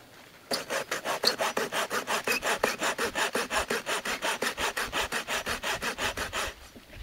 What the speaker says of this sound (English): so what I'm doing is I'm sawing 2 slots down it.